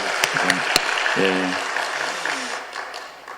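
Applause from a church congregation at a women's mission society dedication service, following the pastor's sermon. A few sharp claps rise into a broad wash of clapping, with a brief spoken word in the middle.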